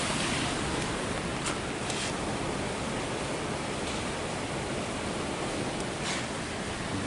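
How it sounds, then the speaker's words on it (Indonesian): A river rushes over large boulders roughly 40 meters below a high, rusting bridge between two villages, heard as a steady, dense, unbroken roar with no voices. "Nah di bawah sana sungai tuh, batunya besar-besar ya"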